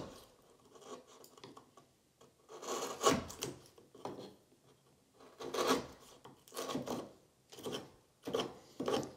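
A chisel scrapes and pares the inside of a wood mortise to flatten it, giving close, dry rasping strokes in uneven bursts separated by short quiet gaps.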